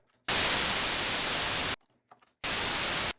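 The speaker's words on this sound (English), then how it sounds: "let's just create like ocean waves, just white noise" Two loud blocks of filtered white noise, shaped to resemble ocean waves, cut in abruptly. The first hisses for about a second and a half, then a short near-silent gap with faint clicks, and a second burst begins.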